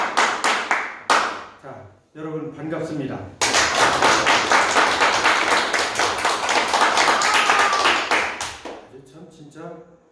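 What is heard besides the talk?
students clapping in classroom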